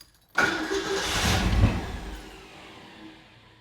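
A car engine with a spark problem cranks and fires after a short silence, rising into a loud surge of engine noise, then settling to a quieter idle.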